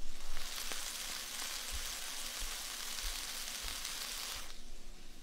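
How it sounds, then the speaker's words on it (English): Chicken frying in hot oil gives a bright, steady hiss and crackle like falling rain, close and continuous, with a few soft low pops underneath before the sizzle cuts away near the end. "Almost every single rain sound in film and TV is actually the sound of frying food."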